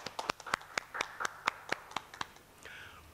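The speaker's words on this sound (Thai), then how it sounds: "ขอเสียงปรบมือให้กับท่านอาจารย์" Audience applause for a speaker at a Thai academic seminar on digital politics, sparse individual claps in a loose rhythm from a small room crowd, fading out after about two and a half seconds.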